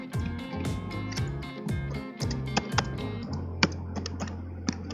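Typing on a computer keyboard to enter a WiFi network name: a run of close, crisp key taps in quick uneven bursts, then a few sparser presses over a low steady hum, no speech.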